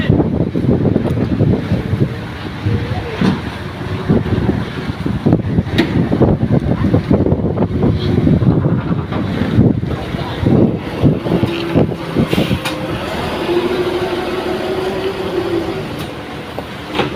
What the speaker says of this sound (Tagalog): Nabagyo na. Lakas ang hangin.